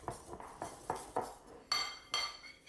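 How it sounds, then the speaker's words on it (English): Whisk beating wet ingredients for grain-free paleo pancake batter in a bowl, a close series of rhythmic taps and scrapes followed by a few sharper metallic clinks against the bowl rim. "We're just going to combine them with our whisk to get a nice batter going here."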